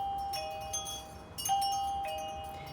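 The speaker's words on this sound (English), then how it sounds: "So I'm going to press the bell button" A Helidallr WiFi video doorbell gives a few short, clear electronic chime tones over a faint steady hum, with brief pauses between them.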